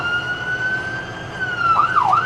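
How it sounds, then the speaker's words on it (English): A loud emergency vehicle siren holds a steady wail, then switches into quick rising and falling yelps near the end. "if I hit the horn right now, the siren's gonna go"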